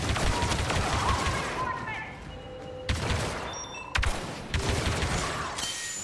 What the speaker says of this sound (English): His gun is semi-automatic, like hardcore semi-automatic. The faster I click, the faster it shoots.